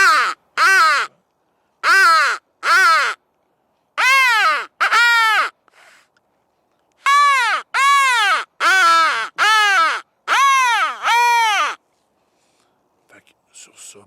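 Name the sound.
crow call imitated with a Woodwise hunting call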